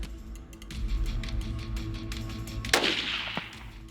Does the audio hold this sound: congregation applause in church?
no